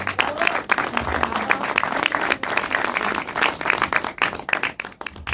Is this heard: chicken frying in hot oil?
no